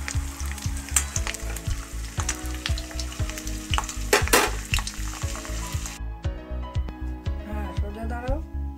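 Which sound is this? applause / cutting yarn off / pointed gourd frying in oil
pointed gourd frying in oil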